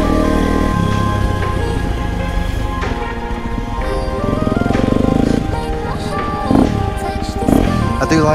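Dirt bike engine and exhaust revving and droning steadily on a Peak District off-road trail, loud and continuous with rises in pitch, someone talking over it.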